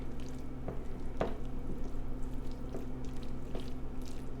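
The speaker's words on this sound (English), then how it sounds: "And we're just going to give this whole thing a stir." Cooked, drained ground beef stirred into a tater tot casserole, giving soft wet squishes and occasional light clinks of the spoon over a steady low hum, with no talking.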